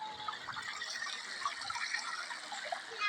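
Running water outdoors in a mountainous part of Japan, a steady broadband rush and splash continuing evenly throughout, fairly close, with no talk over it.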